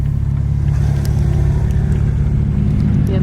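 A single-turbo BMW 335 that has just thrown a fault code drones loudly and steadily at close range, a deep, even engine hum without a distinct rev peak.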